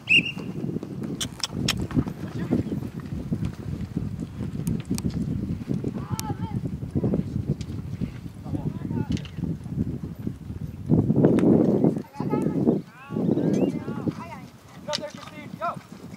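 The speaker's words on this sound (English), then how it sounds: "Ride her off now, Tot." Hooves of a ridden horse in an indoor arena clip-clop steadily at moderate distance, with scattered voices and shuffling around them and a brief louder burst near the end.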